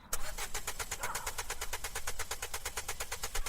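A car engine sputters and stalls on its own during a night drive near Bhangarh fort, giving a steady rapid chugging pulse throughout, loud and close, with no voices.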